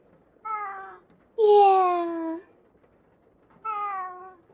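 A cat meows three times up close, a short call, then a longer, louder drawn-out meow, and a final short one after a pause, in a quiet room.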